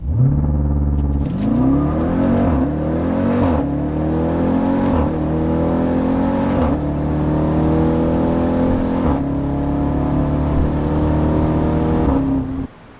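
A 2018 Jeep Grand Cherokee Trackhawk launches hard on a track, its engine roaring loud and close through several rising gear pulls with brief dips at each shift, continuous for about twelve seconds.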